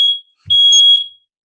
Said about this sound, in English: I just said it was going to set off the smoke alarm and it did